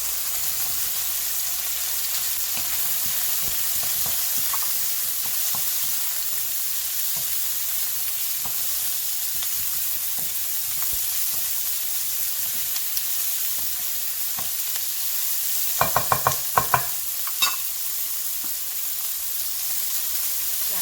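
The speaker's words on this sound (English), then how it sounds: "Just brown the chicken. Add in our onions." Chicken pieces and onions fry in a hot pan for Lad Na noodles, giving a steady, dense sizzle throughout, with a short burst of metallic utensil clinks near the end and no talking.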